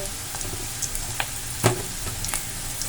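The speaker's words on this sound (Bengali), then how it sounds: "একটু সোনালি করে পেঁয়াজগুলো ভেজে নিতে হবে" Onions sizzle in a pan with green chilli, turmeric and salt, a steady close frying hiss with soft stirring scrapes and small pops throughout.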